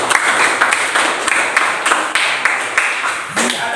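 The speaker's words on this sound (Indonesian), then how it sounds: "Ya, berikan tepuk tangan." Applause in a classroom during a physics lesson on Archimedes' principle: a steady wash of many students clapping fills the room, fairly loud and continuous, with faint voices mixed in.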